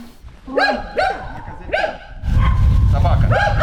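A dog barks in abandoned housing in a deserted, shelled frontline town near Zaporizhzhia, giving several close, sharp barks and yelps, followed by a rumbling noise underneath.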